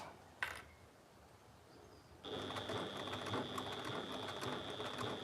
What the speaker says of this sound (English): I'm just stitching as close to the binding as I can get without actually stitching the binding